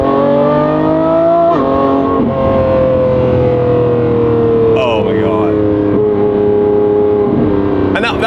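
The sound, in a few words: Lamborghini Revuelto accelerating at 10% throttle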